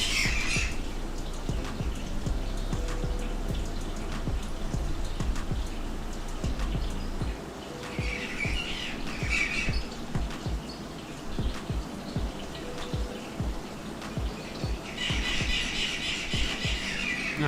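Outdoor birds squawk and chirp in loud, repeated bursts near and far, over a steady background hum.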